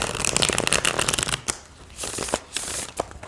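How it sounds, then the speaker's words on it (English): A new Ostara tarot card deck is shuffled by hand, giving dense riffling card flutters in quick bursts with a few sharper snaps, close and clear with no talking. "let's just see how they shuffle and pray that I don't ruin any more cards"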